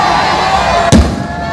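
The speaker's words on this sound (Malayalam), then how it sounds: "ഈ വെടിക്കെട്ടുകൾ ബാക്കിൽ നടക്കുന്നുണ്ട്." A single sharp firework burst cracks out at a football tournament in Kerala, standing out briefly against a steady background of crowd noise and tonal hum.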